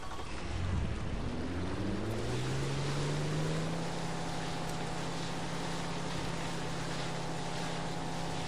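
Motorboat engine in Far Cry 3 revs up to a steady drone over washing waves and wind, loud and close, with no talking.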